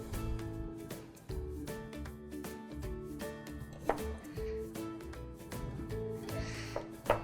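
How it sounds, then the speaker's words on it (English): A knife chopping green onions on a cutting board, irregular knocks and cuts over steady background music, fairly close. "cut up some green onions"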